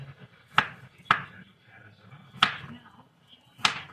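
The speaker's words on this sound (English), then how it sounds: "So my 5-pound bag of potatoes is cut up into slices, peeled and cut up into slices" A knife chops through peeled potatoes on a cutting board, four sharp separate thuds at uneven intervals, close and distinct with faint background noise.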